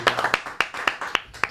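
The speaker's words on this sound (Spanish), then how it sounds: "¡Otro aplauso!" Audience clapping for police officer Félix Santos at a Puerto Rico ceremony honoring municipal officers who became lawyers: a handful of distinct, sharp claps spaced irregularly, fairly close, with voices murmuring underneath.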